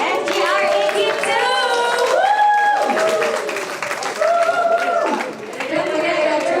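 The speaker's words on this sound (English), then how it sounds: "let's get one round of applause again for" Audience clapping at a medal presentation after an endurance car race, steady applause with people talking and calling out over it.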